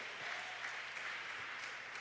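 Church congregation applauding during a preaching service, a dense, even wash of many hands clapping, faint and distant throughout.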